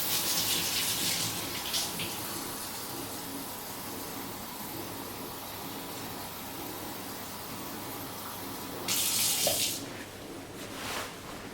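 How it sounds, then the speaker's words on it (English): Water pours and splashes steadily into a blender, with two brief louder gushes near the start and a stronger rush toward the end. "Put it in, throw some water in there."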